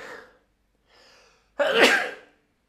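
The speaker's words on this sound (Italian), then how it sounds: "Il bello della diretta, uno starnuto in diretta" A person sneezes once during a live stream, a sharp, loud burst following two faint breathy intakes, with silence after.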